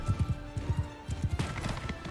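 In Mount & Blade 2: Bannerlord, a horse gallops with quick, rhythmic hoofbeats in clustered clip-clop pairs, followed by a brief burst of noisy battle clatter near the end.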